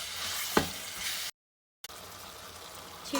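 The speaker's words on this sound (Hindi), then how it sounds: "अब इसके अंदर मैं ये कीमा ऐड कर दूंगी और इसको" Minced meat keema sizzling in a pan with ginger garlic paste, a steady crackling fry with a stirring clatter, interrupted by a brief silent cut before the sizzle resumes.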